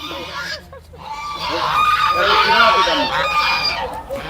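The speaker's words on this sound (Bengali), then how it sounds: "রাজহাঁস" Several geese honk loudly and repeatedly, overlapping one another, with other farmyard fowl calling among them.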